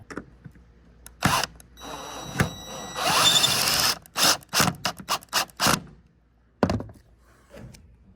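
Hand tools work the inner four bolts: a close mix of ratcheting, metallic clicks, thunks and brief whirring bursts in uneven clusters, separated by short pauses, with no speech.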